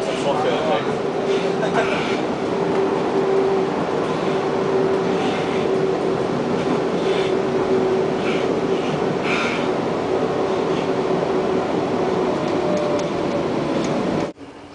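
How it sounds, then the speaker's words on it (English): Steady, continuous rumble of a train rolling along the rails, a constant loud roar with a faint tonal hum, ending abruptly. "We've been riding on trains for about 11 hours today"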